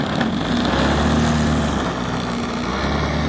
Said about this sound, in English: It has a AX 120 two-stroke OS engine in there, tons of power